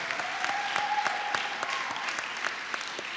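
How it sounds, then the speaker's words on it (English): An audience at the San Francisco Immigrant Leadership Awards 2023 gives award winners a sustained round of applause, steady clapping from a moderate-sized crowd filling the hall, with a faint voice underneath. "Let's give them all another big round of applause,"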